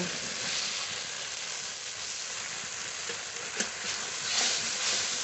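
Ginger, garlic and cumin spice paste with salt and turmeric frying in a pan, a steady close sizzling hiss with faint stirring scrapes and a single small clink partway through.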